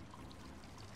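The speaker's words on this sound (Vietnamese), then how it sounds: "Nước ở đâu chảy kìa? Đây nước kìa. Vòi nước." Water runs from a tap inside the horror video game The Scourge, a faint, steady splashing trickle that continues alone for a brief moment.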